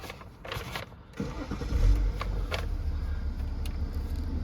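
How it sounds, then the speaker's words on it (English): A BMW X6 M50d diesel SUV starts up: a brief starter whir, then the engine catches around halfway through and settles into a steady, close low idle rumble, with no talking. "Just start it up."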